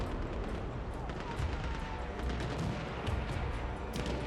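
Explosions and gunfire fill a 16 v 16 Xbox One multiplayer battle, with a dense, continuous wash of blasts and shots and a few sharper bursts throughout. No one speaks over it.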